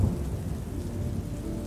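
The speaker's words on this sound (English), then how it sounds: "you listen as rain starts to fall. Then the thunder joins in with more voice than before" Steady, loud rainfall pours through a thunderstorm, with deep low thunder rumbling continuously underneath and no voices.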